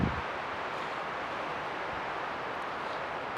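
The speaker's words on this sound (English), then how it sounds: "It's a wee bit breezy out there." High wind roars steadily across a tarp camp in the bush under blue skies, a loud, continuous broadband rush with no pauses.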